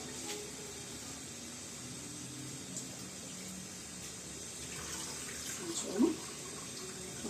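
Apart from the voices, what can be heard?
rinsing in water under running tap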